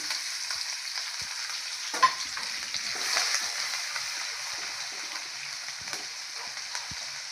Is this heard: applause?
no